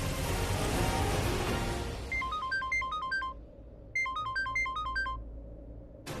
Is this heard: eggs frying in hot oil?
no